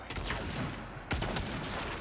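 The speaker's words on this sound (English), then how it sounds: "I just shot Jay-Z like 10 times." A dense burst of gunfire from Saints Row (2022), with rapid overlapping shots cracking loudly across two seconds in a sharp flurry.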